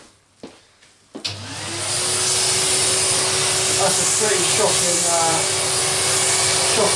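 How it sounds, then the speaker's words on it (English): Vacuum cleaner switched on in a workshop while building a Gauntlet arcade cabinet bezel: a few knocks, then a steady loud whine and roar that holds to the end, with a person talking briefly at the start. "Put the vacuum on."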